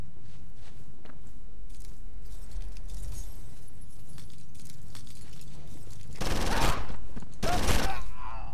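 Submachine gun fire in the game Condemned, heard as two loud, dense bursts near the end that follow a stretch of quieter low rumble and faint movement.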